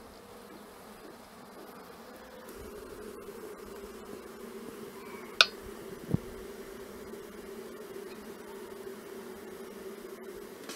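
Honeybees in a nuc hive during an inspection give off a steady, close buzzing hum that continues throughout, with a couple of brief sharp knocks partway through.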